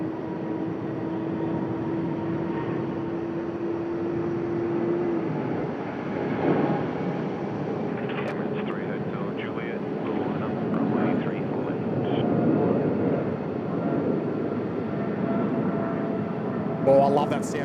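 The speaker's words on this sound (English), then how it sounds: "And 737 MAX starting up as well." Boeing 737 MAX jet engines start up at Sydney Airport, a broad rising turbine roar and whine that builds steadily in the middle distance, with occasional talk over the engine noise.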